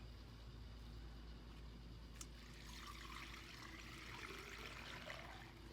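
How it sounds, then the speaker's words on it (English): Water poured into a vase of a flower arrangement, a soft steady trickle and splash that grows fuller partway through, heard up close and fairly quiet with no talking. "again, you would fill it up with water"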